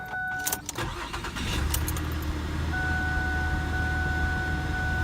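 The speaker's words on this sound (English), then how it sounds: "Okay, so I'm gonna try to start the engine." A 2006 Ford Fusion engine cranks and catches after a brief jingle of keys, then settles into a steady, close idle hum that continues to the end.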